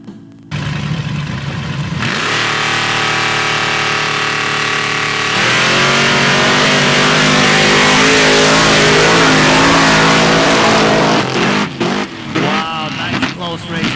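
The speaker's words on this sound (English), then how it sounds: "Gerald running a big block Ford with dual carburetors going against the big block Chevy with a blower" Big block Ford trucks with dual carburetors and big block Chevy trucks with a blower race at a mud drag event in Valemount, their loud engines roaring and revving steadily and close throughout, with a brief dip near the end.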